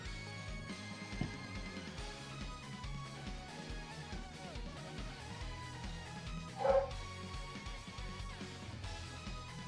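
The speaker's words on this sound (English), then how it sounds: "Also, my dog barked." A dog barks briefly, once near the start and again more loudly later, while steady background music plays over a rhythmic beat.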